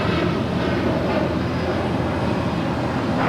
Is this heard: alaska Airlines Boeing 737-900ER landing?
yes